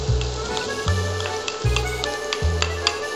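Garlic frying in hot olive oil, giving a steady close sizzle with a low repeating thump and scrape as the pan is stirred.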